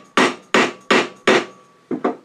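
A drive center is tapped into a cherry burl blank cut rough on the bandsaw: four sharp, evenly spaced mallet knocks, then a quicker pair, each crisp and close with a short woody ring.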